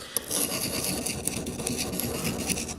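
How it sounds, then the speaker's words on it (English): A U-gouge wood carving tool rasping steadily against a sharpening stone, rocked back and forth in a continuous gritty scrape, close and alone. "If you're sharpening the U-gouge, it's the same thing, except you have to rock that back and forth a little bit."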